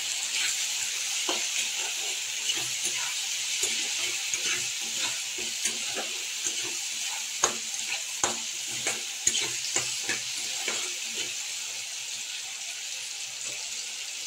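Fish curry with salt and turmeric is stirred in a pan, with a busy run of close spatula scrapes and taps over a constant bright sizzle, no voices.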